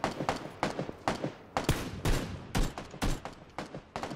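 Rapid close gunfire in the battle-royale game PUBG, a steady string of sharp loud shots, roughly three or four per second, fired in short bursts throughout.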